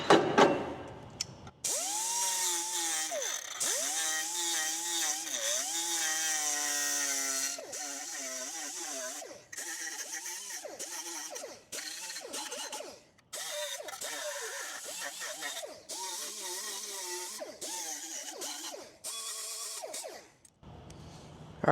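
A power tool whines steadily while cleaning greasy, rusty metal edges before TIG welding, running for long stretches with rising and falling pitch and a few brief pauses, loud and close, with no talking.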